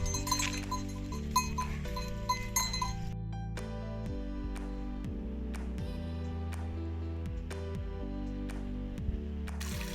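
Small metal bells on goats clink and clank irregularly over a steady musical backdrop, with a soft goat bleat or two now and then, on a Himalayan mountain trail.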